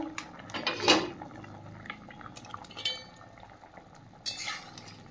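A metal lid lifted off a cooking pot of simmering curry, with a clear clank near the start, then softer clinks and faint bubbling afterward.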